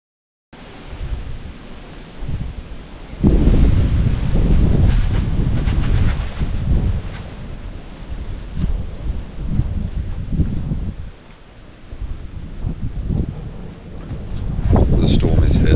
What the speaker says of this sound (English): The storm is here.